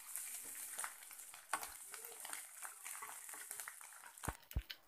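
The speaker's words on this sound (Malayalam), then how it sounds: "അപ്പം നമ്മുടെ തേങ്ങയെല്ലാം ഏകദേശം വറുത്ത് വന്നിട്ടുണ്ട്." Grated coconut fries in a pan over a medium flame with a soft, steady sizzle, and two quick stirring knocks come near the end.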